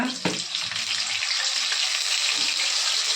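Onion paste fries in hot oil in a steady, loud, close sizzle with spattering crackle, marked by one sharp clatter near the start and running on without a break.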